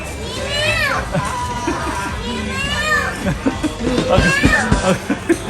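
Several drawn-out meows from a cat sound over lively children's voices and chatter nearby at a som tam restaurant.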